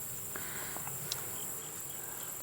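Honeybees hum steadily around an open hive during a September inspection, a faint, even drone with a few brief faint clicks and ticks above it.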